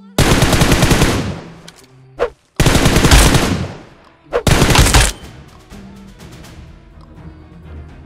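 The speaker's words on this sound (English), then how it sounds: "Tap right fire button to shoot." Automatic gunfire in a PUBG Mobile training session: three loud, close bursts of rapid shots, each a second or two long, separated by short pauses and a faint quieter tail.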